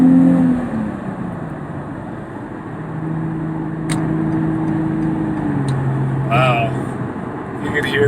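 A Nissan 350Z fitted with a Z1 Motorsports M-Spec dual exhaust pulls up a highway on-ramp, a steady droning engine note rising in pitch under a talking voice, with brief clicks and road noise.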